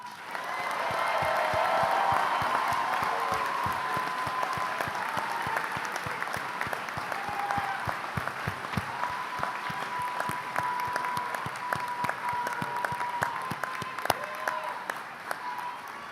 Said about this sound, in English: Let's give these people one round of applause.